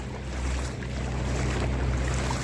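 Continuous broadband rush of churning water with a steady low engine hum underneath as a vehicle drives through a flooded river, loud and close throughout.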